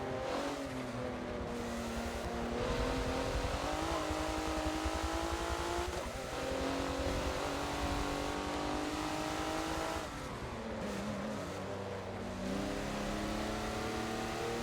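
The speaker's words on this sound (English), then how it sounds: "When you hear me backing out of the throttle, it's mainly that's me steering with the throttle." A Porsche race car in Forza laps Hockenheimring with a continuous, loud engine note that climbs through the revs and then drops sharply as the throttle is lifted or the gears shift, all with no talking.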